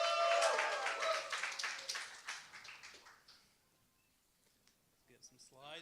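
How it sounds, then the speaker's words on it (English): Applause from an audience at a startup demo-and-drinks night, a loud burst of clapping that tapers off over a few seconds into near silence, followed by a voice speaking close by. "let's get one more round of applause for Balash"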